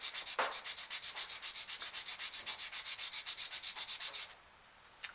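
A wooden fishing lure blank being hand sanded, with about twenty-five quick, even back-and-forth rasping strokes close up, then a pause and one short scrape at the end.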